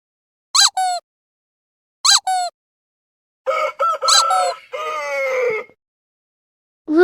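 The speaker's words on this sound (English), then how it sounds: "rooster" A rooster gives short clucking calls, then breaks into a full, loud crow near the end, each burst sharp and close with silence between.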